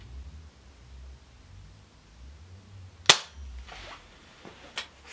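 A Diana Mod 6 air pistol fires a single pellet, one sharp close snap standing out of a quiet room, followed by faint clicks and a smaller tap.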